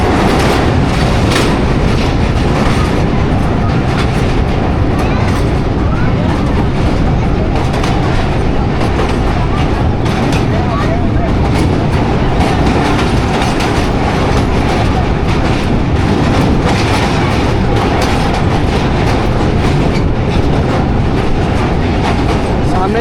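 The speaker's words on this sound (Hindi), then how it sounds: "दरियाए सिंध के ऊपर से गुजर रही है हमारी 43 अब शाह हुसैन एक्सप्रेस" Shah Hussain Express train crossing the Indus river bridge, a steady, loud rumble of wheels and rolling stock with rhythmic clickety-clack over the span, continuous throughout with no voices.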